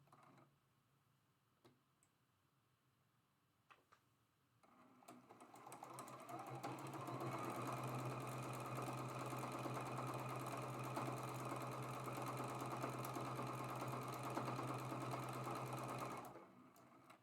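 A sewing machine stitches quilt block seams in a long steady run, its fast mechanical whir starting after a few quiet clicks and stopping abruptly near the end.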